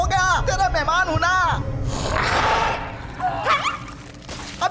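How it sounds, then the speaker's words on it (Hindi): A dog barks in a scene from a Hindi-dubbed action film: a few loud, close barks in quick bursts, a pause filled with a rushing noise, then more barking. "अभी भी भौंक रहा है, चुप हो जा।"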